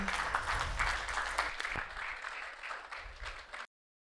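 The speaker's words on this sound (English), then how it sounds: "Please, a round of applause for him." An audience at a Nigerian business leadership event applauds steadily in a dense wash of clapping that holds for over three seconds before cutting off abruptly.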